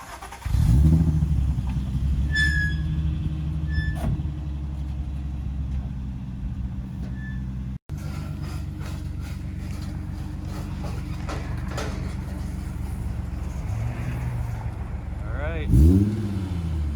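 A 1994 Acura Legend GS six-speed sedan engine runs steadily throughout as the car is unloaded off a trailer, with a brief rev near the start and another near the end, and people talking nearby under the engine note.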